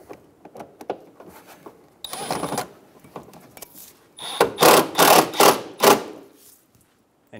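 Phillips head bolt being driven in while fitting a front inner fender liner on a 2007-2011 Toyota Camry, a close series of short buzzing whirs from a driver in bursts, with light handling clicks between.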